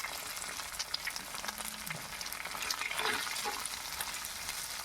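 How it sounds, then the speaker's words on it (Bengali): Egg and potato fry together in a pan for a village-style bhaji, with a soft, low sizzle and occasional scraping stirs, fairly quiet and close, with no talking. "ডিমটা দিয়ে এবার আমি একটু নাড়াচাড়া করে নেব। ডিম আর আলুটা ভালোভাবে মিক্স করে নিতে হবে।"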